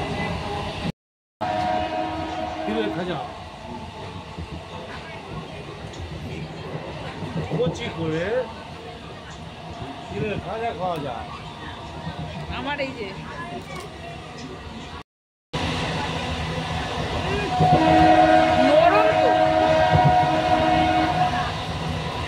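Passenger train in motion with a clanking, rumbling ride and a sustained horn blast near the end, heard from on board under steady talk and background voices.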